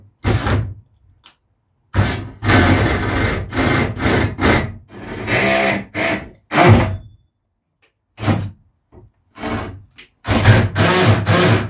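Drilling through the roof of an Iveco Daily minibus during a solar panel fit, loud rough grinding bursts starting and stopping in several runs close by.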